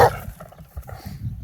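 A dog lets out a brief bark at the start, then soft whimpering and low rustling follow, fairly close.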